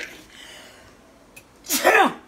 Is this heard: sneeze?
yes